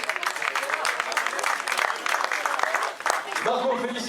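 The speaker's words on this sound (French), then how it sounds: "Merci d'applaudir, vainqueur aujourd'hui, Marco Canol." A crowd applauds the winner at the podium of a junior and senior running race finish in La Roche aux Fées, a dense, close clatter of clapping with a brief lull and voices near the end.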